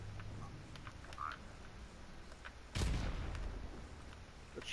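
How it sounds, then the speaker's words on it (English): A single grenade blast in Modern Warfare Remastered booms out as a sudden burst of noise with a deep low rumble that lingers briefly, standing over quieter background game sounds. "I'm gonna nade him."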